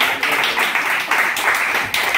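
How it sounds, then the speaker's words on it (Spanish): People at a birthday celebration in a church gathering clap in a brief, dense round of applause that rises and dips, with a faint voice underneath. "pido un aplauso por la vida de Obed"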